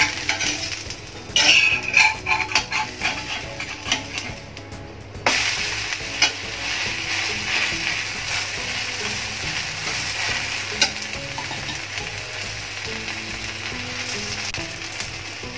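Thick uttapam batter fries on a pan under a lid, with a few clattering knocks early on, then a steady, close, even sizzle that carries on alone.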